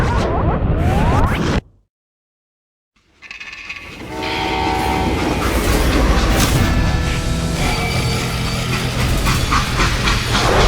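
A freight train runs in the video game Call of Juarez: Gunslinger, loud and close with a steady rumble. A short stretch of total silence cuts in early, then the heavy rolling noise returns and continues to the end.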